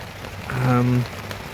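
Heavy rain falls in Torrevieja as a steady, dense hiss of drops. A brief low humming tone rises over it midway through.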